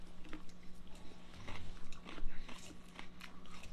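Someone bites into and chews a crunchy crispy chicken salad, close up, with repeated crisp crunches in an irregular rhythm over faint background noise.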